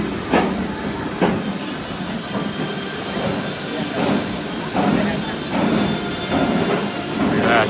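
Roller coaster train at an amusement park rumbles along its track near an open-air station, with rhythmic clacking bursts, metallic wheel noise and a steady roar, while people talk nearby.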